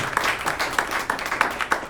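Audience applause at a stand-up comedy show, scattered clapping from a live crowd with uneven individual claps, moderately loud and close throughout.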